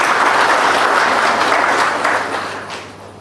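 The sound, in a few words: audience applause for guest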